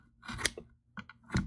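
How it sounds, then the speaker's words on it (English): Scissors trimming the edges of greywater sump pump filter material, a few quick close snips in short bursts with brief pauses between cuts. "Let's just trim off the edges real quick."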